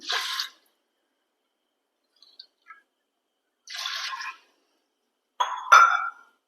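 A glass of water poured onto broken rice in a pressure cooker for fenugreek porridge comes as short separate splashing bursts with silent gaps between them, close and fairly loud, plus a few faint drips.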